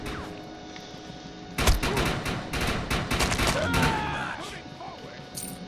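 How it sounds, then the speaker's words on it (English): Gunfire in the video game Defiance, a dense fusillade of rapid shots bursting in after a quieter start, with a voice and other game sounds around it. "I think I'll stick to shooting."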